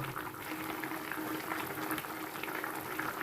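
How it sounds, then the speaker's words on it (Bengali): A pot of vegetarian fish curry boils at a steady simmer, giving off soft, constant bubbling and popping at a low, even level with no one speaking. "আমি একটু ফোটা পর্যন্ত অপেক্ষা করব"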